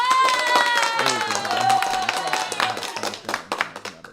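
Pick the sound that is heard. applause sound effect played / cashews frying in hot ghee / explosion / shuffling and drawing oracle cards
applause sound effect played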